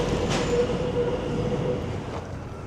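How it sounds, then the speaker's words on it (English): Trains rumbling through a rail cutting below a London building, a steady loud rolling roar with faint wheel squeal throughout, no talk. "You can actually hear the trains below."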